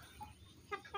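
Two soft, quick clucks from a small serama bantam chicken come near the end, faint against a quiet background.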